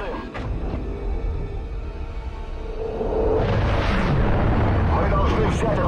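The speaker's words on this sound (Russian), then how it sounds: "у нас уже тяжелая артиллерия подключилась" Heavy artillery explosions in Call of Duty: Ghosts, a dense rumbling barrage that grows louder and fuller partway through, with voices talking over the battle.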